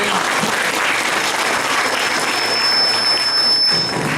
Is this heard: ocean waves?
no